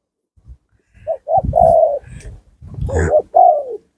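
A spotted dove coos loudly and close by, a decoy bird calling in a short series of hollow, rounded notes with brief gaps, clear against a quiet background.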